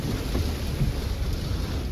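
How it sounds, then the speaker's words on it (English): Low rumbling thunder during a heavy rainstorm with strong winds, a steady dull roar that continues for the full two seconds mixed with rain and wind noise, with no voices. "A lot of lightning, a lot of thunder."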